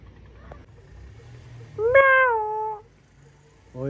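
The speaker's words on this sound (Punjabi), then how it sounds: "ਇੱਕੋ ਹੀ ਜਾਨਵਰ ਹੈ ਜਿਹੜਾ ਉਰਦੂ ਬੋਲਦਾ ਉਹ ਵੇ ਬਿੱਲੀ ਮੈਂ ਆਉ" A cat gives one clear, drawn-out meow lasting about a second, rising then falling in pitch, over a low background hum, with another meow just starting at the very end.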